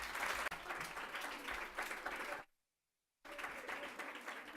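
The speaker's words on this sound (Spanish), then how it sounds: "Le damos un aplauso." Audience in a school hall applauding after a talk on the Extremadura Parliament at a secondary school, steady dense clapping that cuts off abruptly to silence for a moment, then resumes at full strength.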